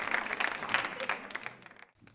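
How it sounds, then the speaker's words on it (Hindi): Audience applause for a contestant at a cancer-hospital quiz show, scattered claps at moderate volume that quickly thin out and fade to near quiet within about two seconds. "विनोद जैन साहब के लिए जोरदार तालियां बजाइए, जोरदार तालियां, जोरदार तालियां जोरों से बजाइए साहब।"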